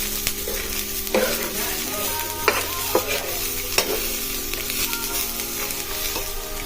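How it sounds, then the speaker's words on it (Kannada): Mushroom pepper fry with curry leaves being stirred in a hot pan, a steady oil sizzle broken by several sharp scrapes and knocks of the spoon against the pan, close and alone with no talk. "ನೀಟಾಗಿ ಸ್ಟಿರ್ ಮಾಡ್ಕೊಳ್ಳೋಣ ನಾನು"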